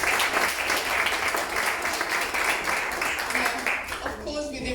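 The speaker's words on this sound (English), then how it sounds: "so a round of applause for that." An audience claps together in sustained applause at an Indonesian street food and fashion festival, a steady dense patter that carries on for several seconds before thinning out near the end.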